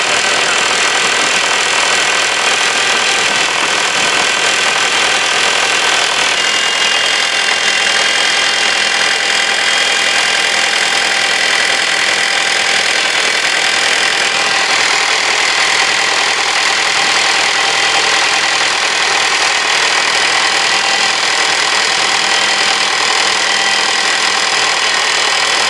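A 2007 Nissan Qashqai with a 2.0 petrol engine and automatic gearbox idles steadily for the whole stretch, a continuous close mechanical hum with no one speaking, from a car that had been standing unused for about two months.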